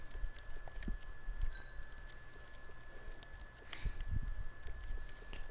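A horse walks in the Red Dead Online video game, its hooves clip-clopping in a steady, moderately loud rhythm over a soft outdoor ambience, with no talking.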